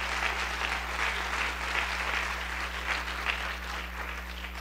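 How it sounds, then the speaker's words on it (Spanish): Church congregation applauding during a Spanish-language service, a steady, moderately distant patter of many hands over a constant low electrical hum. "¿Cuántos aplauden?"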